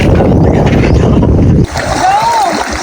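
Water splashes around a wooden baroto as it lands on the shore, loud and churning at first, then dropping to a quieter wash of water with a brief voice-like tone.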